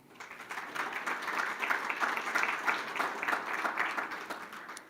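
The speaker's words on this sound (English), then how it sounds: "And yes, feel free to clap" An audience at a Phi Theta Kappa induction ceremony claps steadily for several seconds, a dense roomful of hands swelling slightly and holding without any talk.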